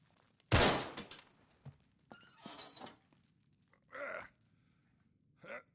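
In Uncharted 3, a single loud gunshot cracks a lock off at close range with a sharp metallic break, followed by a few small clinks and thuds, then brief voices.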